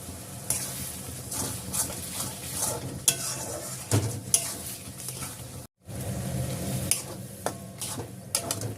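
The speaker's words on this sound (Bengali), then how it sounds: "মশলাটা আমার কষানো হয়ে গেছে।" Spiced masala with turmeric and salt stirred in a hot pan, a continuous close sizzle broken by irregular scrapes and clicks of the spoon against the metal, with one brief gap of near silence midway and no voices.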